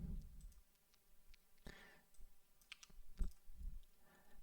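Keys clicking on a computer keyboard while code is written, a quiet, uneven run of taps and short bursts with pauses between them.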